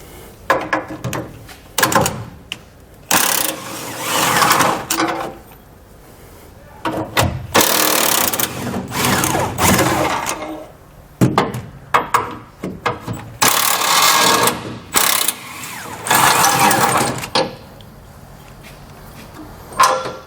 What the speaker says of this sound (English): Now we'll take them off with an impact.